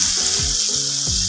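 Aloo pakoras of potato batter sizzle and crackle steadily in hot oil in a pan, a loud continuous frying hiss with a few soft clinks or stirs, no voices.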